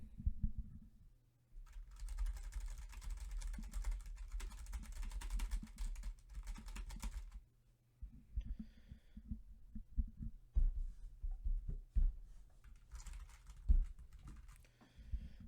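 Keyboard typing carried through a desk-mounted microphone stand comes across as steady rapid key clatter with a heavy low thumping, pausing briefly and then resuming in shorter bursts, with no voices.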